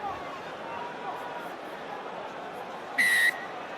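A single short referee's whistle blast at a Wales v France rugby union match, sharp and fairly clear over steady stadium crowd noise and commentary.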